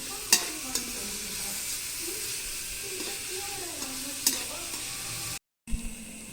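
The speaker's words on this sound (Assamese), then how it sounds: "তো কলিজা আৰু বিলাহীখিনি বঢ়িয়াকৈ দি লওঁ।" Chicken liver and tomatoes fry in a hot pan while a utensil stirs them, giving a continuous sizzle with a few sharp scrapes and clatters up close, and no speech.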